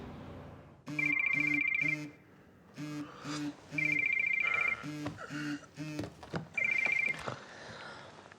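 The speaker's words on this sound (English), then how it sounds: "Linda, why are you ringing me at whatever time you're ringing me?" A telephone rings in repeated electronic bursts in a quiet indoor scene, several distinct ring cycles separated by short gaps, with brief noises between them.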